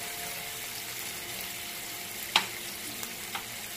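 Spices frying in hot oil for club kachori give off a steady, soft sizzle, punctuated by one sharp metallic clink and a couple of fainter taps.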